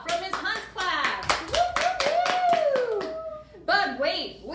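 A school audience claps and cheers for a student, bursts of hand applause mixed with children's whoops and hollers, fairly close and lively, with a short lull before the clapping picks up again.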